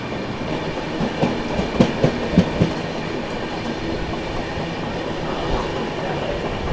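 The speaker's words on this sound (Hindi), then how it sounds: "अभी जस्ट अपने से कैफियत क्रॉस हुई है" The Kaifiyat Express crosses close by on the Indian railway line with a steady rush of wagons and clickety-clack wheel beats, loud and continuous throughout.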